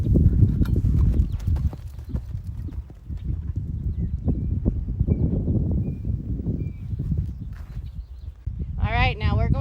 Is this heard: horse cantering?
yes